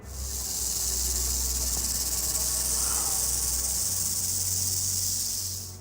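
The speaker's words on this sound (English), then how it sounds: "With its intense buzzing sounds, the rattlesnake was generating a sense of fear in its surroundings." A rattlesnake rattles in a steady, intense, high-pitched buzz that holds loud and unbroken for nearly six seconds, close by, with no voices over it.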